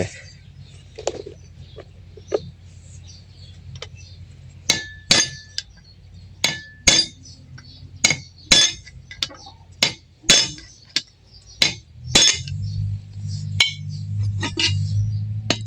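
Metal-on-metal hammer strikes driving a bearing into a Hitachi WM-P150GX2 water pump, about a dozen sharp blows in a steady rhythm after a few scattered taps, with a low engine-like hum underneath.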